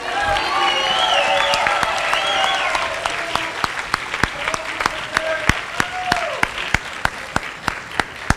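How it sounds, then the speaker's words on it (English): Audience applause fills an awards assembly, loud and sustained clapping with a few voices calling over it, then sharper individual claps standing out as the crowd's clapping thins toward the end. "please hold your applause"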